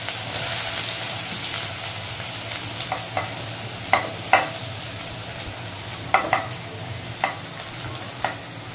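Chopped onion fries in oil in a wok, a continuous close sizzle broken by scattered clinks and scrapes of stirring.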